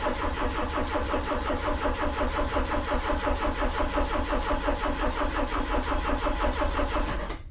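Citroën BX petrol engine with a mechanical fuel pump cranking on the starter without firing: a steady, loud, rhythmic churning that continues for about seven seconds.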